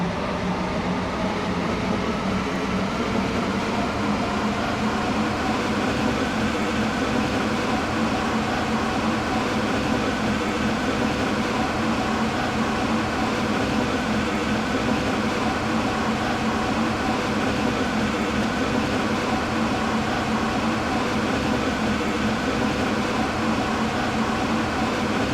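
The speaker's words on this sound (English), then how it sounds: "Welcome on board this Stepford Connect service to Leighton City." Interior of a Stepford Connect train in a video game, heading to Leighton City: a steady, loud, continuous rumble and hum of the moving carriage throughout, with no voices.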